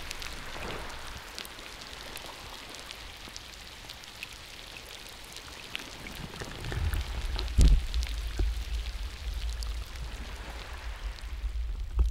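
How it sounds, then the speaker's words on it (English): Steady rain on an island, dense patter of drops striking surfaces nearby, growing heavier partway through with a low rumbling pour joining in; no voices. "It's raining!"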